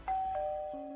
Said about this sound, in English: They were engrossed in conversation when the doorbell suddenly rang.